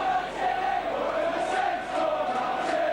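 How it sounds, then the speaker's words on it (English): A rugby league crowd cheers for St Helens against Castleford in a steady, dense roar that rises and falls in waves, heard from a distance. "Saints popular side crowd getting behind them now"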